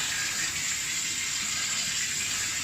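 Tap water runs steadily over grated potatoes as they are rinsed to wash away the starch, giving a continuous, fairly close hiss and splash with no pauses and no talk.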